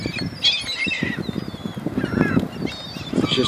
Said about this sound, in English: Here's some hungry seagulls.